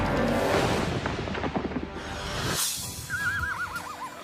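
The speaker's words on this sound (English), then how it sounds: "Brothers Bob and Ron Michelson ride their favorite horses, Bull and Waco, up the mountain" Horses neighing on a mountain ride in Beartooth, Montana: a loud whinny near the middle, then a long, clear, wavering neigh near the end, with rustling movement underneath.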